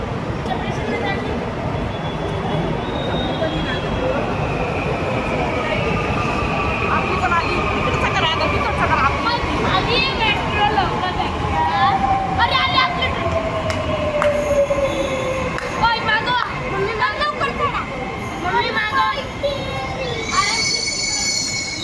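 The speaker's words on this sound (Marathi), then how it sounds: "आणि नंतर आली होती आमची मेट्रो आली होती" A metro train arrives at a station in a steady loud rumble, with long high wheel squeals gliding down in pitch and rhythmic clicks over the rails as it slows, while people talk nearby.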